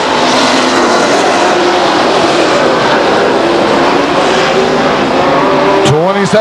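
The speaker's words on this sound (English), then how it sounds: "car John Moore out of Granite Bay spins his race car in turns 3 and 4" A Grand American Modified race car spins in turns 3 and 4 at Stockton 99 Speedway, with loud, steady engine roar from the field filling the track and a brief tire squeal and engine dip near the end.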